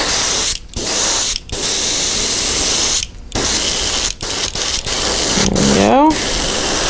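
A spray can hisses in loud bursts while putting a light coat of paint on a Flat Banger fishing lure, several long sprays broken by short pauses, close, ending with a brief rattling whir.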